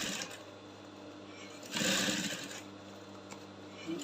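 A sewing machine topstitches close to the seam of a cone sleeve with a quiet, steady whir that swells briefly louder midway, then settles back to an even run.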